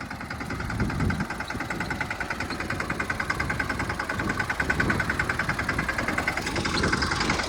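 A tractor engine runs steadily at idle in a farm yard, a continuous low mechanical rumble with a faint rhythmic knock, close by and alone without voices.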